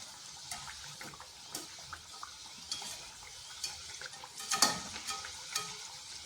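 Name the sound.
potato onion snack frying in oil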